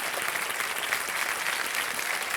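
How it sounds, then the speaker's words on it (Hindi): Loud, dense applause from a television game show studio audience on KBC, steady and sustained with no break, the clapping merging into a continuous roar. "एक बार जोरदार तालियां बज जाए इनके"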